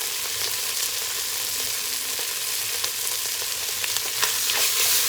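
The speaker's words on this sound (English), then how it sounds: "Now in goes that tablespoon of garlic, minced garlic, and that ginger." Minced garlic and ginger fry in a hot pan over high heat, a steady bright sizzle with small crackles and pops, close and continuous.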